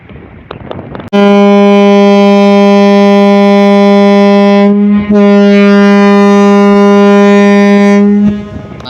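A ship's horn from the MV Manik 11 passenger launch sounds as it nears Dhulia launch ghat, with one loud, steady blast held for about seven seconds and a brief dip midway, clear over faint background noise.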